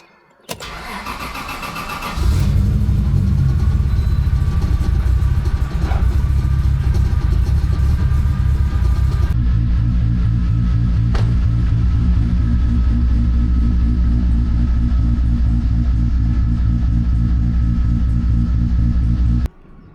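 Toyota Supra with a big turbo engine cranking and catching, then settling into a loud, steady idle that runs close up and alone for the rest of the span.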